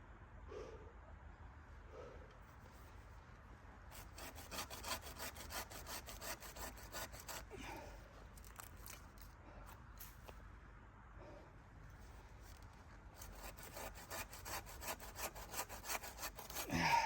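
Rhythmic back-and-forth rasp of a hand saw cutting through a wood stump, steady strokes with short pauses, close by, a dog barking faintly at times.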